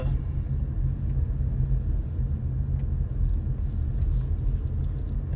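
A vehicle driving slowly around an RV park at Little River Casino in Manistee, Michigan, with a steady low engine and road rumble heard from inside, constant and fairly loud throughout.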